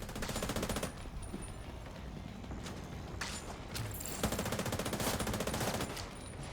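A Banshee weapon fires at enemies in a video game: rapid machine-gun-like bursts rattle in quick, loud volleys, broken by short pauses between strings of shots.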